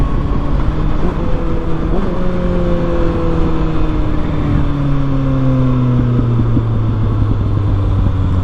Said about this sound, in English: Lots of popping out the exhaust right there.